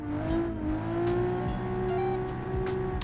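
An 850-horsepower stanced drift car launches after a clutch dump, its engine holding a steady high rev. The car sounds fairly close, with no talk over it.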